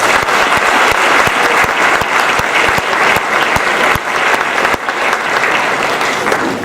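School winter sports awards audience giving sustained, loud applause for the award winners, dense clapping from a large crowd with sharp individual claps standing out throughout.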